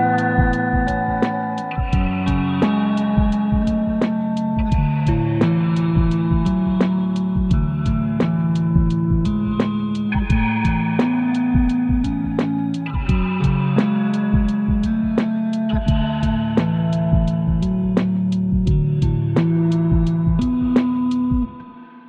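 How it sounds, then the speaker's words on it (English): Clean synth chord patch from the Endless Bass plugin's Dreamy Chords preset, washed in heavy reverb for ambient effect; a steady, loud sequence of sustained chords with plucked attacks runs continuously, alone with no talk. "This is a very nice, clean chord patch with lots of reverb, so great for more ambient type of effects."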